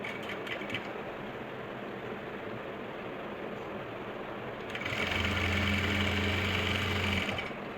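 A sewing machine stitches along the edge of an Afghani salwar hem; quiet mechanical clatter at first, then a louder steady whirring run of stitching for a couple of seconds before easing off.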